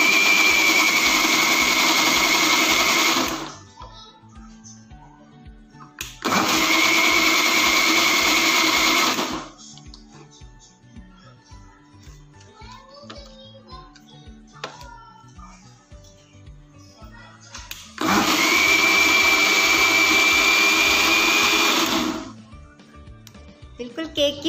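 An electric mixer whips cream for homemade butter in a home kitchen, its steady whirring motor running loud in three separate bursts of several seconds each, with someone talking in the quieter gaps between.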